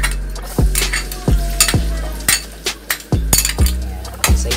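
Garlic sautéed in a little oil sizzles faintly beneath repeated loud metallic clanks of a utensil striking the pan, roughly every half second, close and unvoiced.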